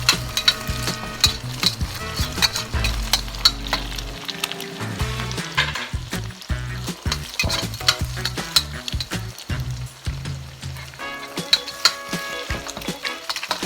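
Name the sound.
scrambling four eggs in hot oil in pan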